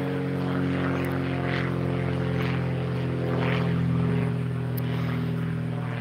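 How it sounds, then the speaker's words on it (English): A propeller airplane passing overhead in a forest preserve, a steady droning hum with low engine harmonics that swells slightly toward the middle and eases off, heard alone outdoors. "Pretty exciting when the most exciting thing on your live video is the airplane going over."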